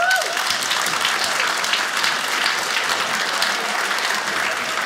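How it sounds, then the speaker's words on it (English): An audience at a stand-up comedy show claps in a steady, dense burst of applause that fills the room for about five seconds, loud and continuous, with no one speaking over it. "clap if you're in a happy relationship"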